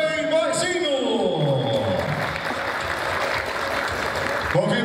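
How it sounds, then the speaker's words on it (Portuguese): At an award ceremony, the audience applauds the winner, a steady mass of clapping under lingering musical tones and a falling synth sweep, moderately loud throughout. "vamos aplaudir Tomás Playboyzinho"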